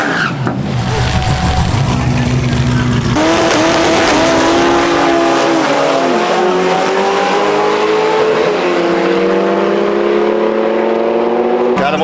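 Drag race car launching hard at TX2K, a loud engine roar with rising revs and tire squeal, the pitch climbing steadily as it accelerates away, close and continuous with no talk.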